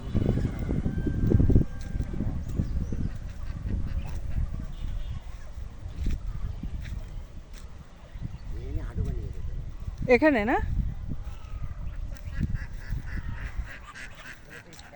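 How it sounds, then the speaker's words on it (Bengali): A flock of geese honks in an open paddy field, with calls rising and falling at close range while a person talks over much of it. "যে মাঠের মধ্যে দেখেন কি পরিমাণ রাজহাঁস এরা পালিয়েছে"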